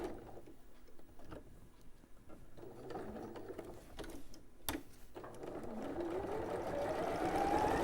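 A sewing machine stitches paired pages of a fabric needle case together all the way round, a steady mechanical whirr with faint ticks that builds and grows louder toward the end.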